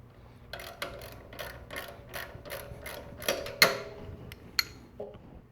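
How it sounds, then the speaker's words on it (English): A 12 mm wrench loosens the alternator adjuster bolt on a 2.2-litre Toyota Camry engine, giving a run of close ratcheting clicks followed by a couple of sharper metallic knocks, with no talking. "loosen the bolt for the adjuster"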